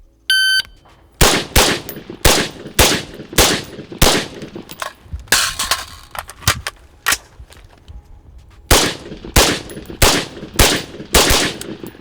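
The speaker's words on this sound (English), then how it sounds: "All right, Braxton, we're gonna shoot the accelerator again, but this time we're gonna use passive aiming" Gunfire rings out during a night-vision shooting drill, with loud sharp shots in quick strings, a pause, and then another rapid volley. A brief electronic beep comes right at the start.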